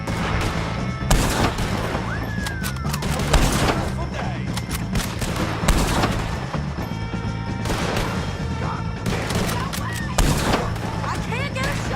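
Gunfire in Red Dead Redemption 2, with sharp shots and bursts repeating over steady game ambience and background music, while voices shout over the action.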